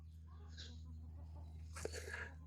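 Backyard chickens on a farm during chores, pecking at fallen blueberries and giving a few soft clucks over a steady low hum. One brief sharper call comes near the end, close by and fairly quiet.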